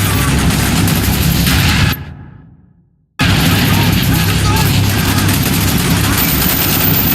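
Dense, loud sustained gunfire from a strafing run in Call of Duty: Black Ops, continuous heavy bursts and booms that cut out abruptly for about a second before resuming at full intensity.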